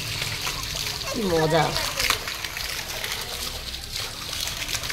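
Children splash and play in water on a third-floor rooftop of a new house, with steady sloshing and spattering close by under excited chatter and a child's exclamation.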